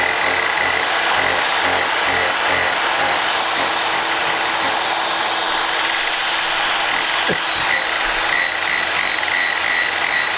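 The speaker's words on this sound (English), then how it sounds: "But the sander's much quicker." A power sander runs continuously on the edges of a pigmented surfboard, making a loud, steady whirring drone with a faint high whine and no talk.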